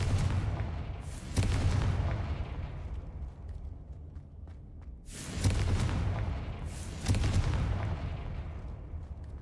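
In a wizarding video game, the Confringo fire spell goes off in several heavy booming explosions, each a sharp loud blast followed by a rolling rumble, spaced a few seconds apart with no talking.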